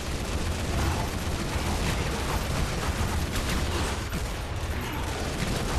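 Gatling gun firing nonstop in a Lara Croft video game, a dense, loud, continuous roar of rapid shots with no pauses across the whole stretch.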